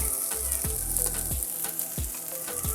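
Cabbage and onion frying in two spoonfuls of vegetable oil on a hot griddle, a steady close hiss with periodic low thuds and scrapes.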